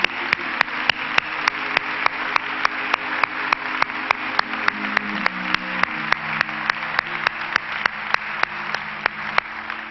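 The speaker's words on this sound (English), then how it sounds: "give a hand clap of praise to the Lord with me" A church congregation clapping in praise during a 1997 service, steady rhythmic claps in unison, loud and even, with a faint hum beneath.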